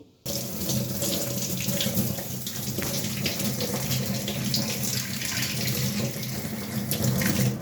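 Tap water runs steadily and loudly into a sink while bitter gourd and ridge gourd are rinsed for a pressure cooker, a continuous close splashing gush.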